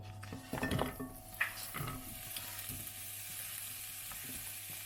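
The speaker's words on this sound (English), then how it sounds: "I'm just going to fry these off until they're softened" Chopped peppers sizzle steadily in a frying pan nearby, with a few clinks and scrapes of a utensil stirring against the metal.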